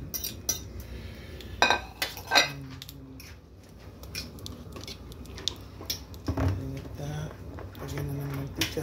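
Chopped eggs and hotdog being mixed in a bowl: scattered metallic clinks and scrapes of a utensil against the dish, some sharp and close, with pauses between them and low voices in the background.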